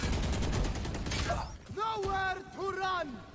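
Gunfire in a competitive tactical shooter match at an esports grand final: a dense burst of rapid shots in the first second and a half, then a louder caster's voice talking over the remaining stretch.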